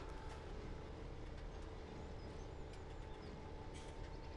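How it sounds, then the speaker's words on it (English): A train rolls by close to a farmhouse yard in a continuous low rumble, steady and moderately loud with faint rattling and a few brief higher tones layered on top, no voices present. "the train goes right through my yard"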